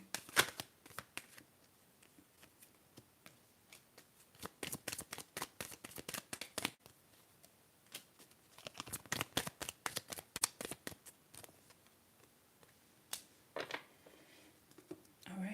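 Tarot cards being shuffled close up and quietly, in bursts of rapid papery riffling and flicking separated by short pauses, repeated several times across the stretch.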